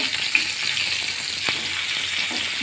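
Ground roasted and white sesame with green chili paste fries in a pan over low heat, giving a steady close hiss of sizzling with a faint clink partway through and no talk.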